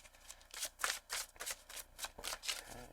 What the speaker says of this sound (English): 2 shuffles for Kits. Let's do it.